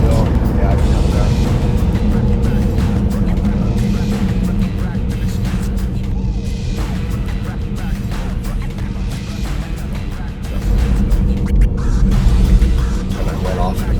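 Tesla Model S Plaid accelerating hard in drag strip mode, a steady loud low whine and road rumble building throughout, with a voice speaking over it.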